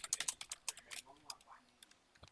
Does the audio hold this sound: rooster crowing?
no